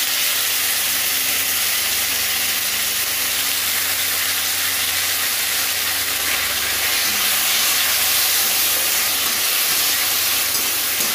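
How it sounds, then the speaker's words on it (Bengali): Chopped tomatoes fry in a pan for a vegetarian festive dish, producing a loud, continuous sizzle and hiss that stays steady from start to finish. "এটা হালকা একটুখানি ভেজে নেব।"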